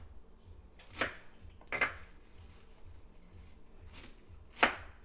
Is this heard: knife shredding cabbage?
yes